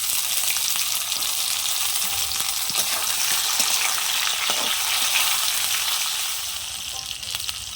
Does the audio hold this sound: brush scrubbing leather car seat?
no